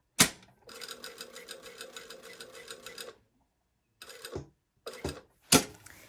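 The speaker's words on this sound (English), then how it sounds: "Now we're going to sew straight from this tip to this tip." A sewing machine stitches a tower sleeve placket in a long, rapid, even run of needle strokes lasting about two and a half seconds, then stops. A few shorter mechanical clunks and brief stitching bursts follow after silences.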